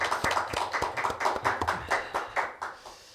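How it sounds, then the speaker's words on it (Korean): A church congregation gives the worship team a short round of encouraging applause, with distinct, fairly sparse hand claps forming an uneven rhythm at moderate volume over just a few seconds. "귀한 찬양 인도한 찬양단에 하여서 격려의 박수하도록 하겠습니다"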